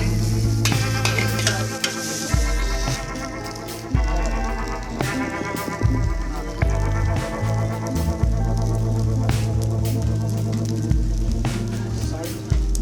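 Chicken noodles being stir-fried in a pan, with a steady sizzle and repeated scraping strokes of a utensil, close and fairly loud, and several sharper clanks of metal on the pan.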